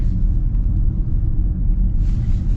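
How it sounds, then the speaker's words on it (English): Steady low rumble of tire and road noise inside a moving 2025 Mercedes-AMG GLE 63 S in comfort mode, constant and fairly loud, with no talking. "you're going to get a little bit more road noise from the tires and everything"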